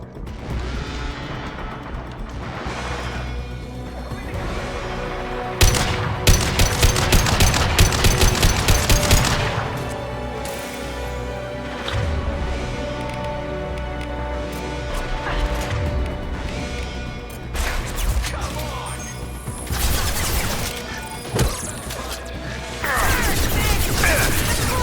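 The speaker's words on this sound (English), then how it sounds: "Taking heavy fire!" Sustained gunfire in the video game Mass Effect 2, loud bursts of automatic fire and heavy impacts that keep coming in waves over a steady battle din, with no talk.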